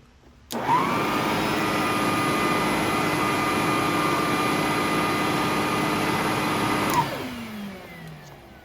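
An Electrolux Epic 3500SR vacuum cleaner switches on abruptly, roars steadily with a high whine for several seconds, then shuts off and winds down.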